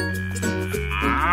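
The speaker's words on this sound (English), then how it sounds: "Cow." Single long, loud cow moo, low and droning, rising into a brighter, strained bellow toward the end, heard alone with no talking.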